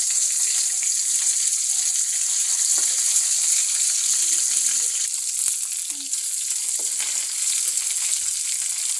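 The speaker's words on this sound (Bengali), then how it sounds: "এই যে মাছটা প্রায় ভাজা শেষের পথে।" Tilapia fish frying in a pan with green chili, nearly done, giving a loud, steady close sizzle with occasional sharp crackles and a brief dip before resuming.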